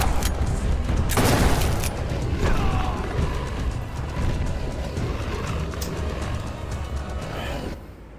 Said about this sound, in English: This is a really ineffective shotgun.